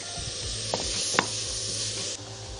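Mixed vegetables, onion and olive oil sauté in a pan for a chicken and rice dish, giving a steady close sizzle with a couple of sharp utensil clicks as they are stirred.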